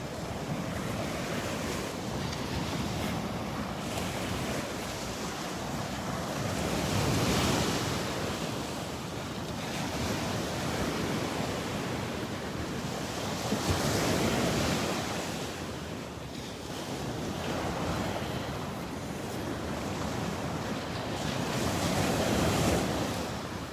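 Ocean surf rolling onto the beach at Delnor-Wiggins in swelling washes every few seconds, mixed with gusty wind buffeting the microphone; no talking.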